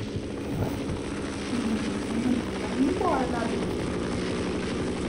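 A steady low rotor drone of a helicopter hums through a Half-Life game scene, with voices talking over it and a few brief whooshing sweeps.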